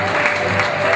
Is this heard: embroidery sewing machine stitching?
no